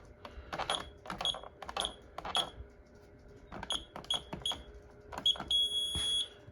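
Short electronic beeps from a home security system panel repeat in quick irregular bursts, like keypad tones, ending in a longer sustained tone as a zone alarm sounds.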